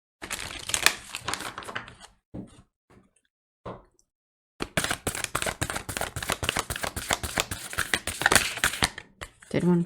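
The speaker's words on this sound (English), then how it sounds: "how I'm shuffling the cards so nothing is popping out" Oracle cards riffle and shuffle in bursts of dense crisp flutter and snapping, broken by a short quiet gap.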